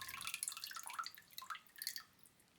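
Rice-rinsing water poured into a cooking pot for simmering daikon radish, heard as a light, irregular stream of splashing drips and trickles, close and fairly soft, with no one talking.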